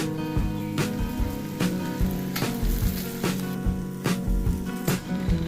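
Chopped raw banana pieces hit a hot oiled pan for a Maharashtrian curry, giving a steady close sizzle with soft clatter and irregular stirring knocks throughout.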